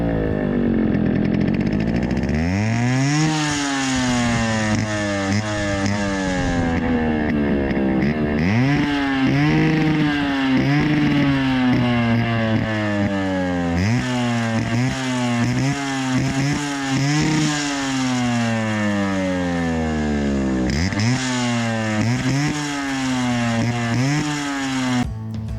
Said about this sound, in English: Let's hear the exhaust note of this bike.